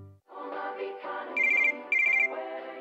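A ringtone in a radio advertisement plays as a short electronic melody, then a high trilling phone ring bursts out twice in quick succession, loud and close, with no talking.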